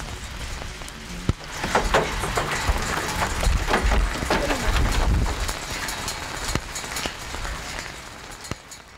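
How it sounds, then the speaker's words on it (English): Hail pelting down in a dense, steady patter of small hits, with louder bursts and a few sharp cracks, and faint voices underneath. "That's hail, Dan."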